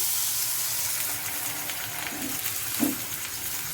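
Water poured into frying momo filling in a home kitchen pan sets off a constant close hiss and sizzle with faint stirring clinks, heard alone without speech.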